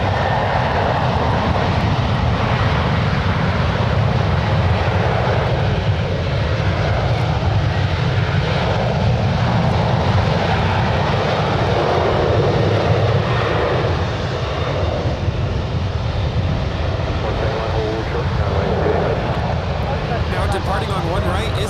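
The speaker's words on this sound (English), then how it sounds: "departing to Dallas, Fort Worth, a 5-year-old 737-800. Slowly moving that way." A five-year-old Boeing 737-800 airliner departs San Francisco International for Dallas Fort Worth, its engines roaring loudly and steadily for the whole stretch under continuous spoken commentary.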